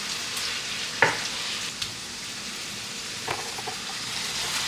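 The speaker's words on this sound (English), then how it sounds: "You'll start to hear it sizzle and really see it sizzle." Meat fries in a pan with a soft, steady sizzle and faint crackle, plus a few sharp taps and scrapes of stirring, close and fairly quiet with no talk.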